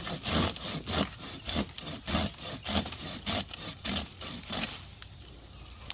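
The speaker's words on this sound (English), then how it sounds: "Yeah, cut it off." A hand saw cuts through an air-layered fruit tree branch in steady back-and-forth strokes, close and loud, about a dozen rasping passes before stopping into quiet outdoor background.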